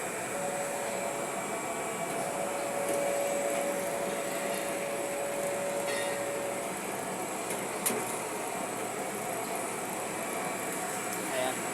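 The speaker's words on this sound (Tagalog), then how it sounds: "Ngayon buksan natin yung machine." Packing machine runs with a continuous loud whirring hum and a faint steady whine, unchanging throughout with a small click near the end.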